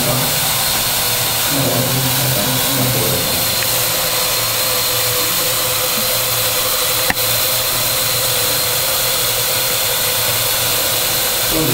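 A small hover drone carrying two cameras, one in front and one above, gives off a steady, loud whirring drone with a bright high-pitched whine that holds evenly throughout, with a single brief click partway through.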